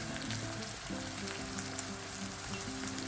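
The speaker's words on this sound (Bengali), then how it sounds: "কুচানো পেঁয়াজগুলো এবার ভেজে দিচ্ছি" Chopped onions fry in hot white oil in a pan, giving a steady, close sizzle with faint crackles throughout and no voices.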